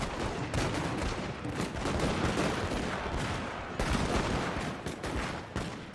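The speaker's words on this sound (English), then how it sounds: "Devastating volleys." Dense, continuous musket volleys crackle from massed troops in a Total War: Shogun 2 battle, loud and overlapping, with sharper bursts of fire standing out through a steady rolling din and no talk.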